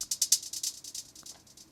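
A rapid hi-hat roll on a programmed beat with the lay bang slider turned up: a quick train of bright, crisp ticks, loudest at the start and gradually thinning and fading.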